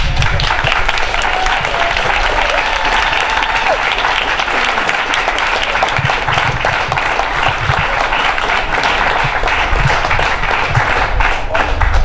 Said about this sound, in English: if we could all just give this a big round of applause